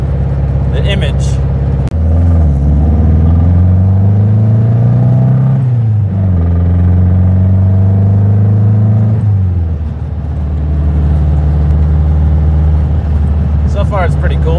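A modified classic Volkswagen Beetle drives along, its air-cooled engine rumbling loud and close, rising in pitch through the gears and dropping between shifts, over constant road and cabin noise.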